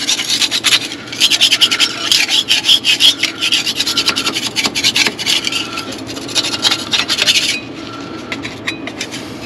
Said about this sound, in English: Scrape all that off of here.